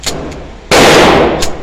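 A single loud, close report from a Beretta 1935 pistol, sharp and cracking with a brief ringing tail, preceded by small mechanical clicks.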